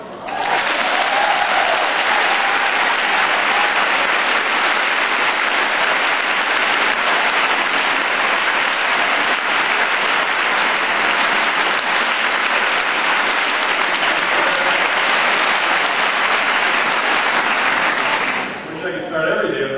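A high school audience at Winchester High School bursts into loud, sustained applause, a thick roar of many hands clapping continuously for nearly twenty seconds before fading abruptly near the end.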